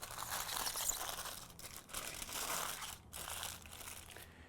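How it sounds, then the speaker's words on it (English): Aluminium foil crinkles and crumples continuously as it is wrapped tightly around a cut of meat before it goes back in the cooker, the close crackling running in bursts with brief pauses. "Make sure it's as tight as you can get it without rupturing the foil here."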